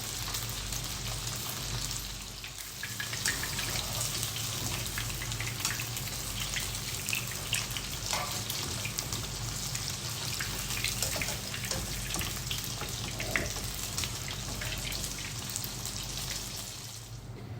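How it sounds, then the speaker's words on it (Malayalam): Chicken sausages shallow fry in hot oil, a steady close crackling sizzle that runs evenly throughout with no talking. "ഇനി അടുത്ത സ്റ്റെപ്പും ഇതുപോലെ തന്നെ ഷാലോ ഫ്രൈ ചെയ്ത് എടുക്കാം."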